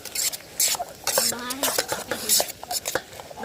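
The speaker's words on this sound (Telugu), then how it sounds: "ఒకసారి పనిలో కొన్ని టమాటా ముక్కలు, ఉల్లిపాయలు, పచ్చిమిరపకాయలు అన్నీ వేసుకొని బాగా కలుపుదాం" A utensil stirs and scrapes tomato pieces, onions and green chilies in a pan for fried rice, giving irregular metallic clinks and scrapes over a faint sizzle, close and moderately loud.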